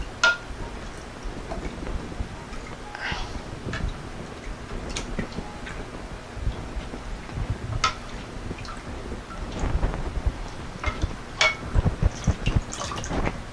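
Cornstarch being stirred into liquid for a teriyaki beef stir fry sauce, with soft irregular clicks and taps of a utensil against a bowl and faint liquid sloshing, close and quiet, without talk.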